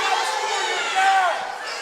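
A Valley crowd yelling at a high school wrestling match against Hills, a sustained wash of voices in a gym that swells briefly mid-clip, loud and continuous throughout.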